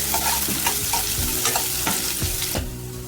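Chopped onions fry and sizzle in a pan for Telugu-style mutton curry, with repeated scraping stirs of a spoon over a steady, close sizzle and no talking.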